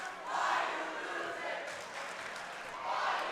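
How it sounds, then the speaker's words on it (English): A high school girls' basketball crowd cheers after clutch free throws late in the game, with swelling roars that rise and fall in waves under steady commentator talk. "And now the Ludlowe crowd wakes up too, Aiden."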